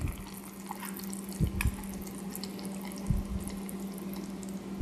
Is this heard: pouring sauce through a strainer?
yes